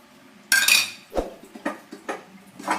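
Dishes, pots and cutlery clatter and clink in a burst of washing-up noise, followed by several shorter knocks and clinks spaced out, close and fairly loud with no talking.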